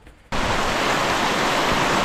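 A river running high with a strong current in Malico roars in abruptly after a brief quiet moment, then holds as a loud, steady, close rushing wash with no voices.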